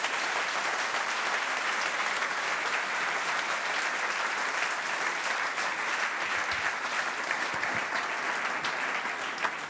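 Audience applause after a panel at the Entrepreneurship Avenue 2015 conference: sustained, dense clapping from a full room that holds steady at a strong level from start to finish, with no voices over it.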